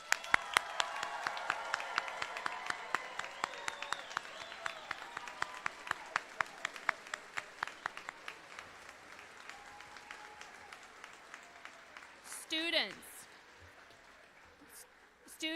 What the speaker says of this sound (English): Please join me in another round of applause celebrating our newest Bearcat teachers.